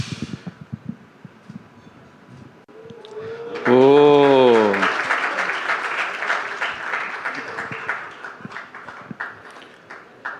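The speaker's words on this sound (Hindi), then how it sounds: "तालियां, वो करके दिखा रहे हैं।" An audience claps at a yoga event, with sustained applause rising after a short tonal sweep and continuing under a murmuring crowd before tapering into scattered claps; someone speaks at the start.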